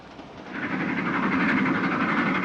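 A 1940s passenger train carriage rumbles along the rails, a steady roar that swells after a moment and holds loud and even, with no voices.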